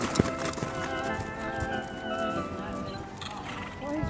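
Horses canter around a show arena during a hunter country pleasure class, soft hoofbeats drifting under steady background noise, with people talking nearby.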